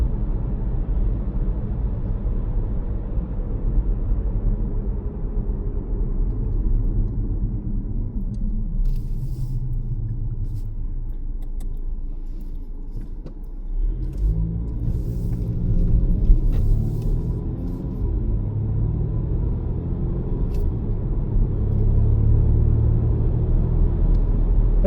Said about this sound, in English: But this car does go pretty fast.